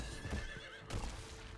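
Horse mount in the video game Diablo 4 gives two short whinnies over a clip-clop of galloping hooves, close and clear, no talk.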